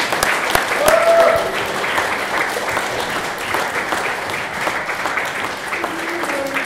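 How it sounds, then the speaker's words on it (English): Audience applause for boxers at a fight press conference, a sustained dense wash of clapping filling the room at an even level, with faint voices and a whistle-like tone mixed in. "Round of applause for the fighters, please, guys."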